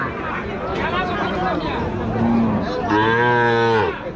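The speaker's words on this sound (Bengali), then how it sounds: "আপনারা যে গরুটা দেখছিলেন নেপালি গরু খুবই সুন্দর" Cattle at a livestock market, a cow giving a loud, drawn-out moo near the end, with a shorter low call before it, over a background of people chattering nearby.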